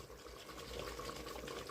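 Water poured into a jar of tomato sauce, a short, close splashing trickle filling the glass, steady and fairly quiet.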